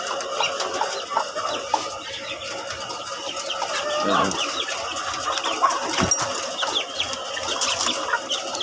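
Backyard chickens cluck and chatter continuously. Several birds are close by, with occasional louder squawks over a busy outdoor background, and someone speaks briefly.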